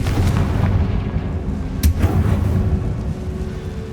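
A Confringo fire spell explodes in Hogwarts Legacy, a sharp blast near the middle over a steady, dense rumbling game background.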